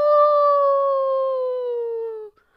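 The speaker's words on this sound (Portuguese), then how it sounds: "Ao lado dele, um cachorro uivava." A single dog howls in one long, clear, steady sustained note lasting about two seconds that slowly falls in pitch before stopping, loud and alone with no other sounds.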